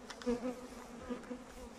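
Honeybees buzz steadily outside the hive on a sunny day while foragers bring in pollen, a continuous low hum with a few individual bees droning closer, no talking.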